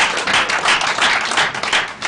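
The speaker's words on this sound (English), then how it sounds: "I thought you all would clap for yourself." Applause from a seminar audience, many hands clapping steadily and fairly close for about two seconds, with no talking over it.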